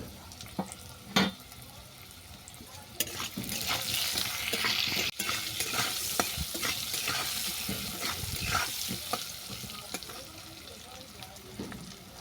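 Spices frying in a pan for a Naga fruit curry with potato, salt and turmeric, a soft steady sizzle with scraping stirs and a few sharp clinks of the spoon against the pan.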